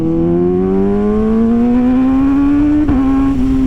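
A Kawasaki ZX6R motorcycle engine revs loud and close, its pitch climbing steadily under acceleration, with a brief dip near the end before it pulls on.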